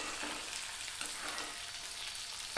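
Onions sautéing in a pan for red capsicum chutney give a steady, soft sizzle with faint stirring scrapes, close and low in level, with no talking.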